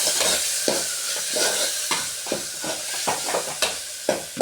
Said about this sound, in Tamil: இப்போ கருவேப்பிலை கொத்தமல்லி எல்லாம் கொஞ்சம் போட்டுக்கிட்டு நம்ம நல்லா வதக்கிக்கலாம்.